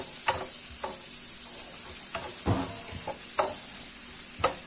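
Onions sweating in a pan for paella give a steady bright sizzle, broken by a few soft stirring scrapes and clinks at irregular moments, close by with no talking.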